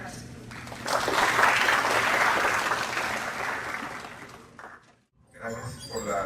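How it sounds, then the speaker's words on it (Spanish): Audience applause at a business presentation: a broad wash of clapping swells, holds steady for several seconds, then tapers to a brief pause before a voice begins speaking. "Por favor, un fuerte aplauso."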